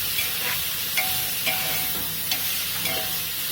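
Carrots, beans and squeezed soaked soy chunks sauté in a pan, giving a steady broadband sizzle with a few brief clicks of stirring, close and moderately loud with no talk.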